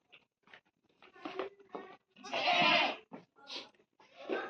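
Young goat kids on a goat farm bleat repeatedly at close range in short, uneven calls, one longer cry standing out in the middle.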